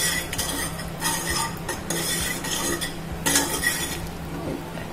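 A spoon stirs moringa leaf soup in an opened pressure cooker, with soft swishing strokes and repeated metallic clinks against the pot, close and moderately loud with no voices.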